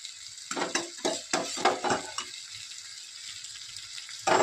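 Ginger garlic paste frying in a pan with tomato and potato, a close, steady sizzle broken by a quick run of stirring scrapes and taps, then settling to a quieter hiss before a final scrape.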